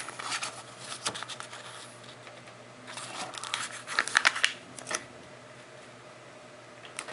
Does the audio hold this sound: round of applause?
no